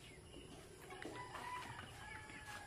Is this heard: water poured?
no